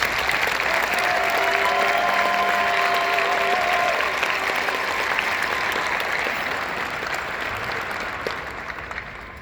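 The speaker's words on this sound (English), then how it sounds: "A big round of applause for the fans for your support over the years" Sustained applause from a hockey arena crowd at a Hershey Bears game, loud and dense throughout, tapering slightly toward the end.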